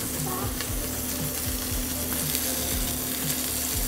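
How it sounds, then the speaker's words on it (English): Sausage meatballs browning in a frying pan, a loud, dense, close sizzle that holds steady throughout, with faint scraping as the pieces are moved. "we're going to brown them, we're going to turn them in a minute"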